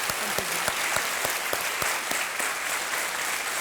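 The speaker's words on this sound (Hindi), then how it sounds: "तालियों के साथ आपका एक बार फिर स्वागत है।" Studio audience applause on a television quiz show set, a dense continuous wash of clapping with a few sharper individual claps standing out near the front, no speech over it.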